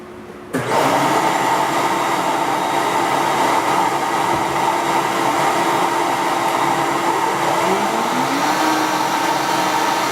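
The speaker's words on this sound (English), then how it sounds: "I got to turn the vacuum on, and we'll turn the machine on" A shop vacuum and a Rockler box jig machine start up together and keep up a loud, steady whirring roar with a faint rising whine.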